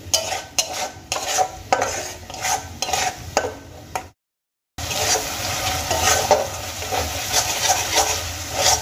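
Onion, ginger and tomato stir-fried in a pan, a spatula scraping in quick rhythmic strokes over a steady close sizzle, with a brief gap of silence midway.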